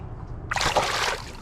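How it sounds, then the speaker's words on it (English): A released redfish slips back into creek water at Crystal River, Florida: after a quiet half second, a sudden close splash and slosh of water rises, then fades out over most of a second. "Let him go back in the water."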